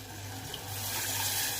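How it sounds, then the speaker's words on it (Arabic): Water poured from a cup into a cooking pot holding rice, liver, gizzards and freekeh, a steady splashing stream that grows slightly louder and fuller, with no voices. "نضيف كوباية مية،"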